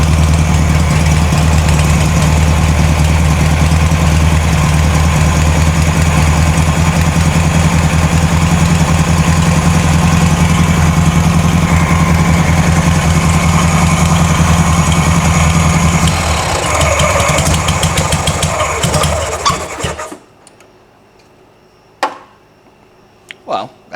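A VW-based Ford Model T kit car engine idles after a carburetor replacement, a loud steady rumble that falters and cuts out near the end, followed by quiet with a few faint knocks.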